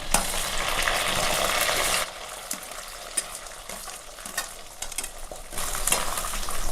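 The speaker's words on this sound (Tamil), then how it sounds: "இப்போ சின்ன வெங்காயம் சேர்த்துக்கலாம்." Small shallots frying with garlic cloves in a pan for a tamarind curry, a loud steady sizzle at first that drops to a softer crackle, with scattered stirring clicks, then swells again near the end.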